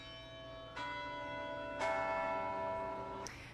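Three bell strikes from the Morehead-Patterson Bell Tower, a historic campus carillon tower at UNC, each chime ringing out with a long sustained tone over faint outdoor background.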